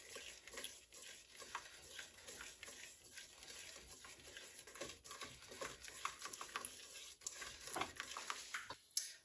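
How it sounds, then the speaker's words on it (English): Quiet, steady scraping and clinking of a spoon stirring an ingredient into a melted Scotcheroos mixture, continuous soft strokes and faint taps, with no talking. "We will just mix that in until it's all melted and well combined."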